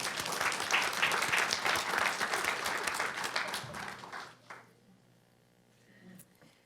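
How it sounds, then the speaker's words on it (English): Applause from an audience at a board reception, a dense sustained patter of clapping that carries for about four seconds, then thins and fades out, leaving a quiet room with faint sound. "Let's give her a round of applause."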